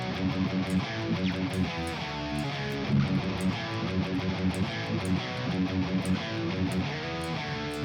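A single-coil Telecaster runs through an inexpensive multi-effects pedal on a metal patch, giving dense, heavily distorted chugging riffs with sharp palm-muted attacks, loud and continuous with no talking.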